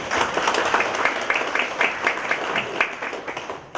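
Audience applause at a 2015 Korean conference on a nuclear power company and the local community, following a keynote speech: a dense, steady wash of many hands clapping that holds for several seconds before thinning out.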